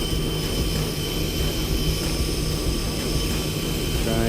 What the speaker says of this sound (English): Hit it once with the wire wheel.